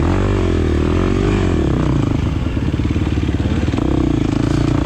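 A 2023 KTM 350 XC-F dirt bike races through a muddy, greasy hare scramble, its engine droning loud and close with steady throttle pulses, revving and chattering continuously throughout.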